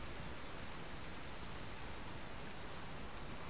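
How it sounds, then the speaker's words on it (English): Heavy rain in the survival video game Subsistence, a dense, loud, unbroken wash of falling drops filling the whole moment. "It's gonna rain and thunder,"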